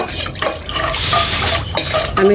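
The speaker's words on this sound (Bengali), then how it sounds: "সব কিছু উপকরণ আমি ভালোভাবে মিশাই নিচ্ছি" A spoon scrapes and stirs creamy barfi ingredients, sugar among them, in a pan on the stove, with close, steady scraping and light metallic clinks running throughout.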